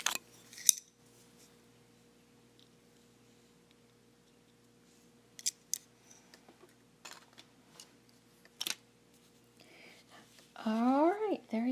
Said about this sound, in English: I'm just going to cut the thread.